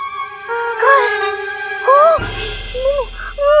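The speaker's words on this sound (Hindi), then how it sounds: "ये पिचकू की आवाज नहीं है, ये एक चेतावनी यंत्र की आवाज है" Repeated electronic warning alarm from a device in a children's fantasy show, its steady beeping tones looping in the background while a voice and playful melodic sounds come and go over it.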